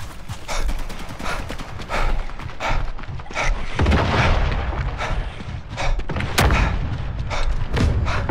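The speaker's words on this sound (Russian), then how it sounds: "Норджейка мне гранату кинул" A grenade blast amid a Sniper Elite 5 team deathmatch firefight, with repeated booms and gunfire thudding through most of the stretch, loud and dense.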